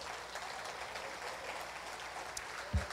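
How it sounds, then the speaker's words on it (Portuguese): A church congregation applauding, a soft, continuous wash of distant clapping with no distinct individual claps, a brief thump near the end. "Vamos aplaudir a esse Deus"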